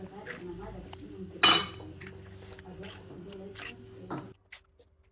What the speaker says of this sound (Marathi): भांडी वगैरे घासून घ्यावीत